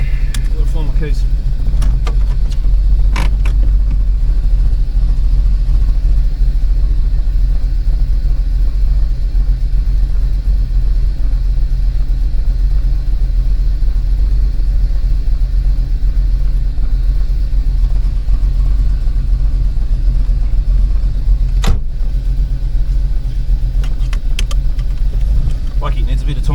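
A Holden Torana's engine running at idle as it warms up, a loud, steady low rumble that holds throughout, with a few sharp clicks and knocks of car fittings near the start and toward the end.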